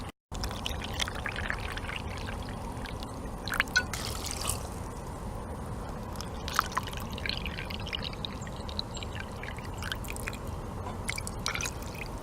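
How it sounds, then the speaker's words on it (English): Steady water pouring into a cooking pot outdoors for Thai sticky rice, a continuous trickling splash with occasional drips and clinks, fairly close and without talk. "We'll add 6 cups of water."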